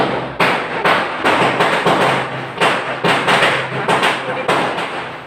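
Firecrackers bursting outside during a New Year celebration, a steady run of sharp, loud bangs and thuds roughly every half second across the whole stretch, with a voice faintly underneath.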